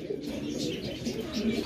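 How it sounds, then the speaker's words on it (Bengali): A pair of black beauty pigeons coo softly and repeatedly, close by, in a low rolling rhythm with faint background noise. "এক জোড়া বিউটি কবুতর ব্ল্যাক কালারের মধ্যে"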